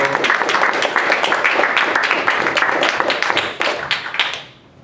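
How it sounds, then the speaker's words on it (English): Audience applause welcoming someone speaker at a song catchers workshop, a steady wash of many hands clapping close and loud for several seconds, thinning and fading out at the end. "give her a round of applause and welcome her"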